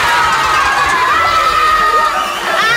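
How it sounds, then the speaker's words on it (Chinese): A lively audience at a variety show cheers and shouts with excited, high-pitched voices, a loud continuous crowd roar with little distinct clapping. "来热情掌声！"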